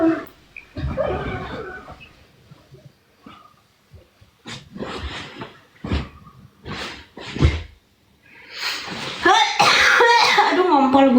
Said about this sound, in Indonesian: Batuk-batuk sampai